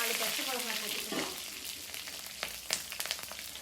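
Green chillies fry in hot oil in a pan, giving a loud crackling sizzle at first that gradually settles into a softer hiss broken by sharp pops and spatters.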